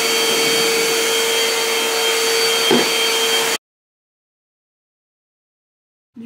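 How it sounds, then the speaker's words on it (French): A household vacuum cleaner runs loudly and steadily during home cleaning, a constant whirring drone with a brief knock partway through, then it cuts off abruptly into silence. "Du coup, je vais effectivement passer l'aspirateur."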